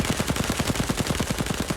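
Rapid, steady machine-gun fire from armed men firing at a man in the film Thunderbolts*, a loud continuous burst of evenly spaced shots with no talking over it.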